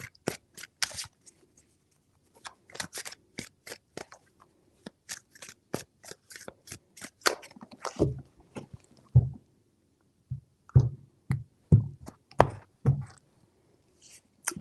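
Tarot cards shuffled by hand in three rounds, a series of crisp, dry riffling and tapping bursts, close and fairly quiet, with short pauses between the shuffles.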